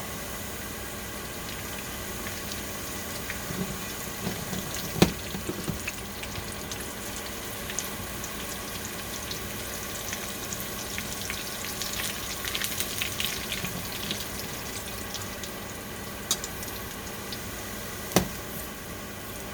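Crispy noodles frying in a pan give a steady, dense sizzle that carries on without a break, with small pops and crackles scattered across it and no voices.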